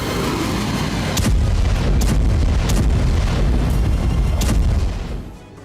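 Missile strike explosion in wartime news footage, a loud sustained roar with several sharp booming bursts over a dense rumbling wash that fades abruptly at the end.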